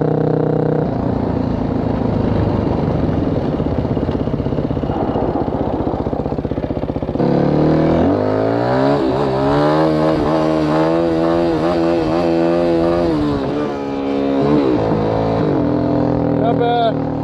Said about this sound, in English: I'm just banging it off the rev limiter.